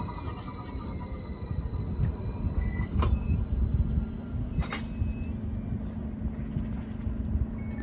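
Class 756 unit 756001 rumbles into a station, a heavy low roar of wheels and running gear with a rising brake hum and a few brief high squeals and clanks as it slows.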